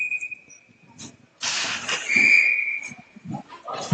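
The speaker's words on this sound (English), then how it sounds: "And we'll get another whistle." A referee's whistle shrills at a PeeWee youth ice hockey game between the Blue Devils and Seahawks, a sustained blast at the start and another sharp one midway, over rink noise and crowd chatter.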